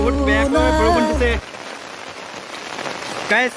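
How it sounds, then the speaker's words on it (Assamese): Heavy rain falls in a village in Assam, a dense, even hiss that takes over after a brief burst of tonal, voice-like sound at the start; the tonal sound returns briefly near the end. "বহুত বেয়াকৈ বৰষুণ দিছে ইয়াত"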